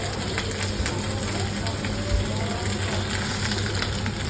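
Shrimp paturi wrapped in gourd leaves frying in an oiled pan, giving a steady, close hiss and crackle of sizzling oil that runs continuously throughout without a break.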